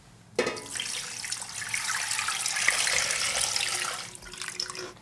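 Water pours from a tap into a pot for oxtail soup broth, a steady, moderately loud rushing splash lasting about four seconds before tapering off.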